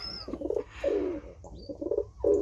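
Pet pigeons in an indoor loft coo back and forth while displaying at each other, a run of throaty rolling coos in bursts with a few faint chirps and tweets between, close and fairly loud.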